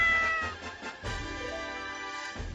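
A Minecraft cat meows a few times in quick succession, clear and close, set against soft game background sound with no talking.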